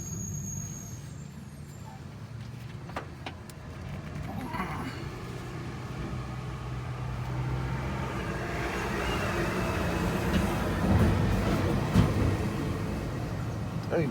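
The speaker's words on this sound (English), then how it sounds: "Hey, the trash people going by making all that noise." A garbage truck rolls past at a distance with a low engine rumble and a brief air-brake hiss, growing louder toward the end over steady outdoor background noise.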